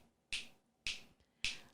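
Three crisp finger snaps, evenly spaced about half a second apart, close and clear against near silence.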